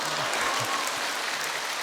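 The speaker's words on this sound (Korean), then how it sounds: "아니, 지금 박수 치시면 안 돼요." Church congregation applauding during a sermon, a steady wash of clapping that fills the space for a couple of seconds, fairly loud and even, with no voices over it.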